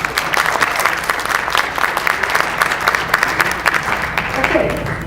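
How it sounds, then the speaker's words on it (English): An audience at a wedding seminar claps for a presenter, a dense, steady burst of applause from a crowd that continues evenly throughout, close and fairly loud. "All right, let's have a round of applause for Janelle."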